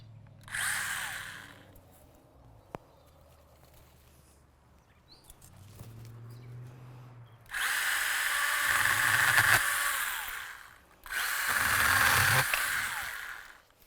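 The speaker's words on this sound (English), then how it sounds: "So what I'm going to do first is trim back some of these branches" A power tool trimming back tree branches in a garden runs in three loud whining bursts, the last two long, with quiet outdoor pauses between and a faint bird call.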